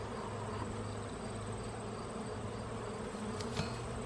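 Honey bees buzz at an open beehive during a hive inspection, a dense, steady, close swarm hum that runs unbroken throughout, with no talking.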